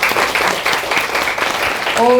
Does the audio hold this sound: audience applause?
yes